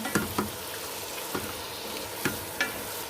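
Goat meat stirred into gravy in a hot pan, a low sizzle broken by a handful of sharp utensil scrapes and clinks, close up with no voices.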